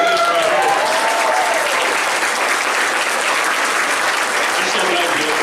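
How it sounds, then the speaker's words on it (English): Audience applause at a convention guest panel forms a loud, dense wash of clapping that holds steady through the whole stretch, with no voices over it. "Round of applause for these guys."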